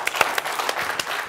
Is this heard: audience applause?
yes